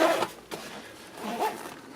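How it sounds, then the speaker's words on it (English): A zipper is drawn closed on an insulated lunch-box carrier bag, a few quick rasping pulls close by, with a short pause between strokes. "Zip up our top."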